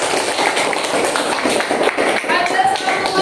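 A classroom of students claps together during a lesson on cubes, brisk overlapping claps mixed with rhythmic tapping, while voices carry on underneath.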